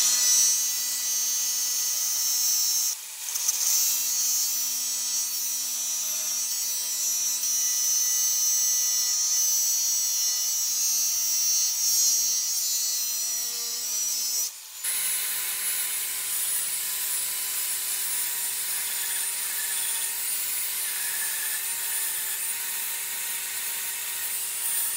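Power tool cutting square section steel for an engine project, a loud, steady high-pitched whine and grinding that runs throughout, briefly stops twice and changes pitch after the second pause, with no talk.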